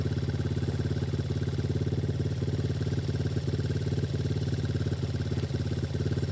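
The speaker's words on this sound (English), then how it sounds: "I'm gonna get on the dirt bike and jump" Honda CRF125 dirt bike engine idling steadily and close by, a continuous even putter with no talk over it.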